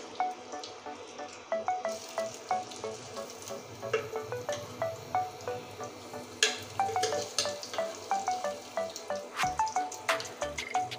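Masala katla fish coated in gram flour frying in a pan over low heat gives a soft background sizzle, punctuated by frequent light clinks and taps of a utensil against the pan, fairly quiet throughout.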